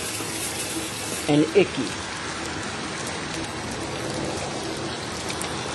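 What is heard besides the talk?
waterfall in a garden gnome display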